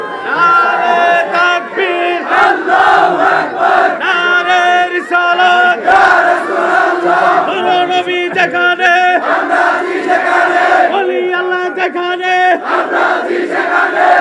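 Large crowd at an Islamic religious gathering chanting slogans in unison, loud and close, with rhythmic repeated calls and swelling voices throughout, no single speaker standing out.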